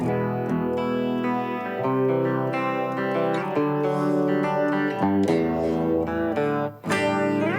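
Electric guitar chords ring out alone through a Univibe pedal's warbling, phasey modulation effect that gives a shifting, swirling tone.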